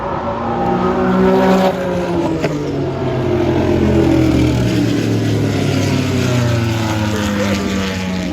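Race cars battling for second place out of turn 11 at a historic motorsports reunion, engines roaring loud and sustained as they pass close by, with a steady high-revving drone throughout.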